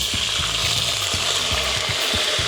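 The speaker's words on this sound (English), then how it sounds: "we deglaze the pan with a bit of wine" Wine hits a hot pan that just held chicken, giving a loud, close, rushing sizzle, with repeated low knocks and scrapes from a utensil working the bottom of the pan and no speech.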